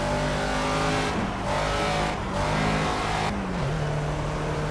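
A Caterham Academy race car in the Project Cars racing game roars steadily while descending a hill, its engine pitch dropping and climbing as it is downshifted, loud and continuous with no voices.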